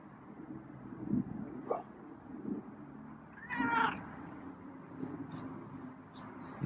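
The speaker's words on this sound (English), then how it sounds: "he's meowing at me." A feral cat meows a few times at close range indoors, short plaintive calls with one longer, stronger meow in the middle, over a quiet background hum.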